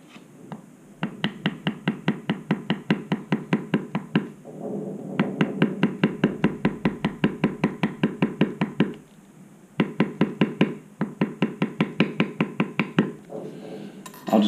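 A mallet strikes a steep beveler tool on leather in steady, evenly spaced taps, with several runs of rapid knocks separated by short pauses, close and fairly loud.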